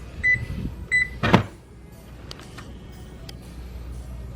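A home oven's control panel gives two short electronic beeps as it is set to 375 degrees for baking chocolate chip cookies, followed by a single dull clunk, close by in a quiet kitchen.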